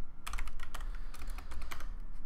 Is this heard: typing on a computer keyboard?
yes